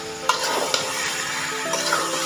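Cauliflower florets and potato cubes being gently turned in a tomato masala: a continuous close sizzle with light scraping and two sharp spatula clinks early on, and no talk.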